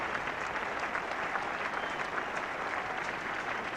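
A cricket crowd at the 1979 World Cup match between England and Pakistan applauds in a steady, dense wash of clapping that holds evenly throughout.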